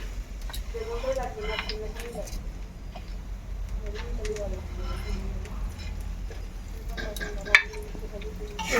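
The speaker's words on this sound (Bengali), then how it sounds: "আমি ভালো করে লাল করে পেঁয়াজটা ভেজে নেব" Onion frying in oil until browned, a soft continuous sizzle with occasional stirring clinks sitting beneath a person talking for most of the stretch.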